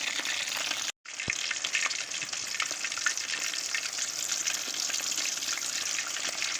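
Chicken lollipop pieces fry in hot oil with a dense, continuous crackling sizzle, briefly cut off for a moment near the start before resuming steady and close.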